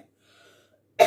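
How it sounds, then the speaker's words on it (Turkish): A single sudden, harsh cough from someone ill and struggling to breathe bursts out close and loud after near silence, cut off right at the end. "konuşurken bile şu an öksürük geldiği için nefes alamıyorum"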